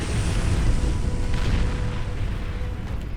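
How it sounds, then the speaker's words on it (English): Artillery shelling a base in a large real-time strategy game, a continuous low rumble of distant booms blending into a dense, steady roar with no distinct single blasts. "they're building artillery emplacements across the ridges that are shelling down now at the Cortex base"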